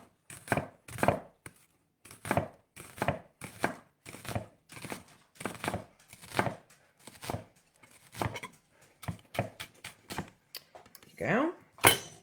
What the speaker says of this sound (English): And I'm going to slice it into very thin